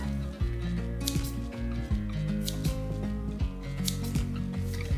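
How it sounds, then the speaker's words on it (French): Small five-blade herb scissors snip fresh coriander in a kitchen, giving a steady run of quick crisp cuts over a constant background hum and tonal music. "Je viens ensuite prendre mon petit ciseau comme ça avec 5 lames et je viens ciseler de la coriandre."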